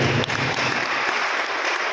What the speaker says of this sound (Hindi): ताली बजाने से कल्याण नहीं होना